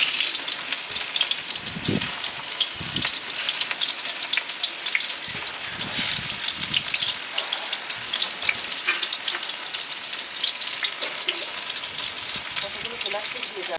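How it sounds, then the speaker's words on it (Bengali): Chopped onion sizzles steadily in hot mustard oil for a Bengali-style chicken soya pasta, a dense continuous crackle with occasional soft stirring knocks throughout and no voices. "দিয়ে দেবো সর্ষের তেল দিয়ে দেবো পেঁয়াজ কুচি"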